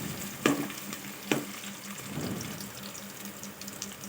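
Green chillies, cloves and cinnamon are stirred and fried in oil in a pan for egg biryani, with a continuous close sizzle broken by two sharp scraping clinks of the spoon early on.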